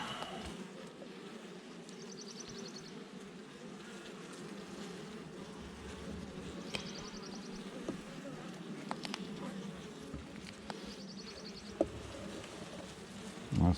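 Honey bees hum around an open Dadant hive, giving a steady, close droning buzz throughout, with faint voices and a few small knocks underneath.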